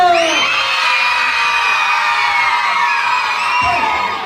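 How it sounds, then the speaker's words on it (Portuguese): A crowd of children at a party gives a loud, sustained shout on cue, voices overlapping in one long cheer that fades slightly toward the end. "quem tá feliz dá um grito!"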